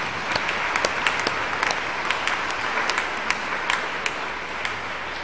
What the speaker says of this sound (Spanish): con fuerte aplauso